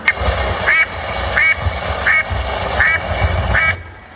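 Duck quacks sound in a steady series of about six loud, evenly spaced calls over a dense background of music or party noise.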